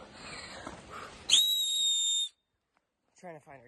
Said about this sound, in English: Now we're coming back, blowing this whistle.